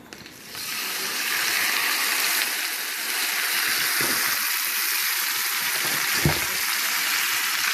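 Shrimp poured into a hot buttered pan set off a loud, steady sizzle and hiss that holds for several seconds, with a couple of brief clinks near the end.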